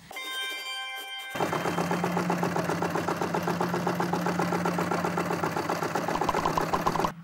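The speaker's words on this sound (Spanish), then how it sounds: "el sobrehilado es el zigzag que hace la máquina" Domestic sewing machine stitching a zigzag overcast seam along fabric edge: after a brief higher whir, a steady fast mechanical chatter of the needle runs continuously, close and loud.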